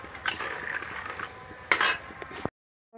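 Pasta being stirred in a pot, with metal utensils scraping and clinking against cookware in a steady domestic kitchen clatter, one brighter knock near the end before a sudden cut to silence.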